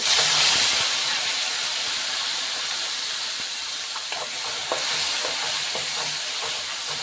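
Tomatoes frying with garlic in hot oil give a steady, loud sizzle and hiss throughout, with occasional soft clicks of stirring toward the end; no one speaks.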